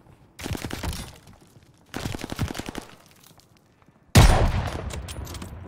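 Automatic gunfire in the World War II shooter game Call of Duty: Vanguard, three loud close bursts of rapid shots, each trailing off, with short pauses between them.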